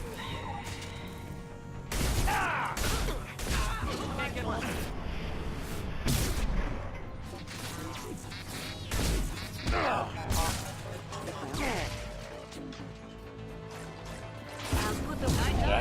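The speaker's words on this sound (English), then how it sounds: "I hate exploding mechs." Combat mechs blowing up in a Mass Effect 2 firefight, several loud blasts and crashes scattered through ongoing gunfire and impacts, with a voice talking over much of it.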